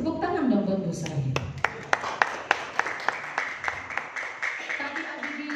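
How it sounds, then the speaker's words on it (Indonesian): At a network-building training session, an audience claps for a senior manager. Talk fades out and a run of sharp, fairly regular claps follows, rhythmic and moderately close, then a softer patter continues under a low murmur. "Tepuk tangan dong buat Bu Sari."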